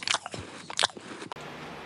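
A couple of close, crisp crunching bites into a chocolate quinoa cookie, followed by quiet chewing.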